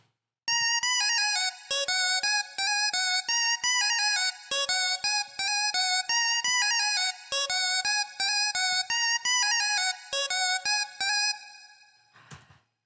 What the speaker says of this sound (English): today we're going to do a cute future-based lead that sounds like this